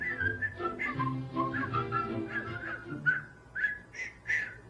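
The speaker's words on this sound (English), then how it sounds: "I don't know what my whistling sounds like." A person whistles a short, lilting melody alone: a run of clear, bright notes with small pauses, close and moderately loud, slightly wavering in pitch.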